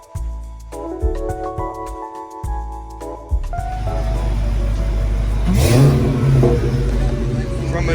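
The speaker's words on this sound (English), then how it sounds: "we came in the 3rd gen Camaro with the Pro Charger, baby" Third-generation Camaro with a ProCharger revving hard, starting with sharp, choppy blips and then holding a loud, sustained roar with supercharger whine, close by at a car show.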